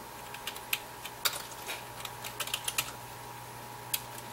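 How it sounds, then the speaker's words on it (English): Keystrokes on a computer keyboard as a fastboot flash recovery command is typed to root a Xiaomi Redmi Note 2, sparse uneven clicks with small bursts, fairly close over a quiet low hum. "we're going to type in Fastboot flash"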